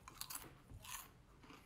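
Crunchy bites and chewing of fried fish or chicken from JJ's Fish & Chicken, close and fairly quiet, with two or three crisp crunch bursts and no talk.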